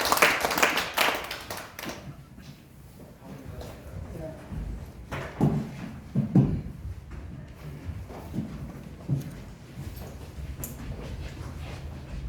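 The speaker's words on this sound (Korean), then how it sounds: "교수님을 큰 박수로 모시겠습니다" An audience at a lecture claps to welcome a Jeju National University professor, a short flurry of applause at the start that thins into scattered claps and shuffling, with faint sounds from the room after it.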